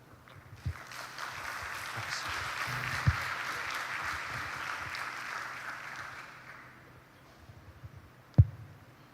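Audience applause at the closing ceremony of an international prehistoric and protohistoric sciences union gathering, a moderate steady clapping that rises, holds for several seconds, then fades, with a couple of sharp thumps.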